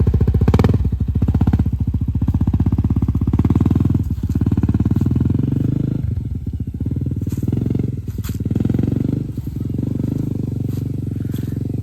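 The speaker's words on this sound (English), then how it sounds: "Give it gas, go." A Honda CRF250L dual-sport motorcycle revs loudly up close, its engine rising and falling several times before it pulls away, with some clatter and a brief voice.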